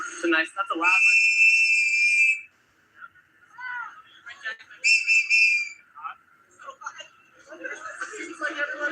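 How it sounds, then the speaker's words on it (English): Loud shrill whistle blasts ring out at a street protest march outside a federal building, two long piercing blows with a shorter one later, mixed with nearby crowd voices and chatter. "That's a loud whistle."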